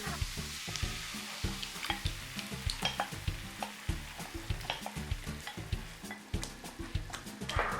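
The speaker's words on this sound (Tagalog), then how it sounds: "Stir well." Tomato sauce being stirred in a pan, a rhythmic series of close scraping and sloshing strokes over a soft sizzle, steady and repeated without speech.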